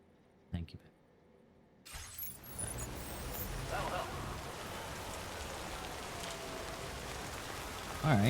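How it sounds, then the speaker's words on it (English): Rain starting after a brief quiet moment and then falling as a steady, fairly loud hiss, with a voice speaking over it. "it's raining"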